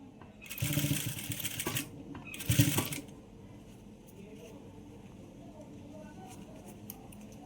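A sewing machine stitches a blouse in two short bursts of close, busy running, then drops to quiet room noise with faint handling.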